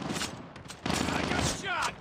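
A burst of rapid gunfire crackles in Call of Duty, a dense fusillade of shots in a firefight with a voice speaking over part of it.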